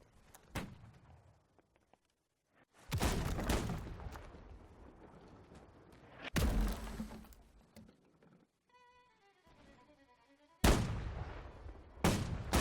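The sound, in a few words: carronade cannon firing on a ship, video game Holdfast: Nations At War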